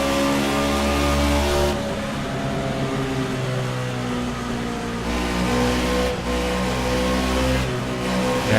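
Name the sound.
race car engine revving on the track at Dover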